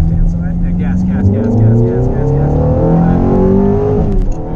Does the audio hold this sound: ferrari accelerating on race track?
yes